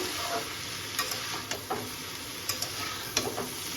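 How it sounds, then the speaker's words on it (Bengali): A utensil scraping and stirring cauliflower stem curry (charchari) frying in a pan, with steady soft sizzling and a handful of light clinks and scrapes spread over a few seconds, close and without talking. "ঢাকনাটা উঠিয়ে ভালো করে একটু নাড়াচাড়া করে নিলাম"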